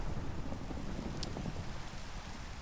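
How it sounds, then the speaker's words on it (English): Rain falls in the video game Minecraft, a steady soft hiss of downpour filling the background at low level, unbroken throughout. "Looks like rain again."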